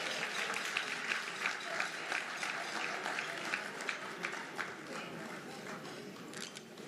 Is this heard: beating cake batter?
no